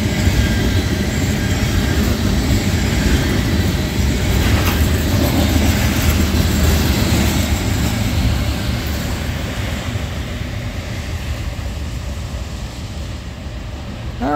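Norfolk Southern freight train 63V, led by locomotive NS 1012, rolls through Jeannette, Pennsylvania, a continuous heavy rumble of cars on the rails that stays loud and steady, then fades slightly toward the end, with no talk.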